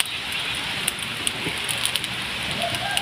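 Steady rain patters on a hard surface at a rural garden home in Saraburi, Thailand, a constant hiss broken by sharper individual drips and taps, with no voices.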